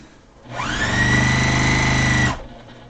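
A sewing machine stitches a straight seam just under a quarter inch on a pillow, one close, steady whirring run of about two seconds that starts and stops cleanly, with no one talking.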